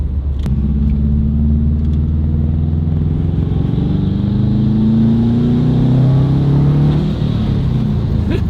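A budget JDM Subaru WRX wagon with an EJ205 engine accelerates on the road. The engine drone is loud, steady and rumbling from inside the car, its pitch rising smoothly through the gear.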